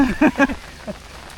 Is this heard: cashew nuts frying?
no